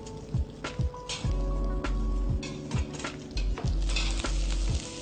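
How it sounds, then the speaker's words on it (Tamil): Sesame seeds, peanuts, curry leaves, chopped ginger, green chili and cumin being sautéed in a pan, with a steady sizzle broken by repeated scraping and stirring strokes of a spoon against the pan, close and fairly quiet. "இதை நல்லா வதக்கிக்கோங்க."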